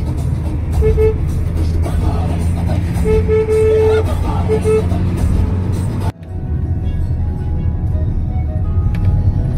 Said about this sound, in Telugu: మమ్మీకి ఏదో కారు నడుపుతుంది